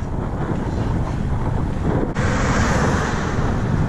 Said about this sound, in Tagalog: Sobrang lakas po ng hangin.